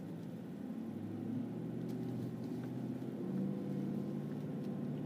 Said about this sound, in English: Here I was all concerned about driving through some water